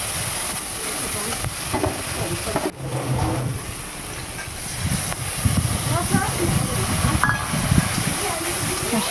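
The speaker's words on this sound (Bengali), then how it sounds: "এখানে মশলায় আছে জিরে, লঙ্কা, আদা এবং ধনিয়া। মশলাটাকে ভালো করে কষিয়ে নিতে হবে।" Cumin, chili, ginger and coriander spice paste sautéing in a pan for a banana-flower dish, giving a steady sizzling hiss with stirring scrapes, close up, under a voice talking.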